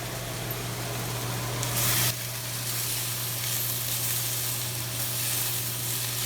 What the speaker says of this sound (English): We've been cooking these onions down and the apples.